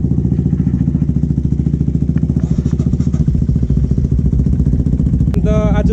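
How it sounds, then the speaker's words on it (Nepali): Two Royal Enfield Himalayan motorcycles fitted with Akrapovic exhausts idle close by with a loud, steady thumping beat, the pitch rising briefly as one revs, and a short voice breaks in near the end. "गर्दैछ बाइक, दुईटा बाइक।"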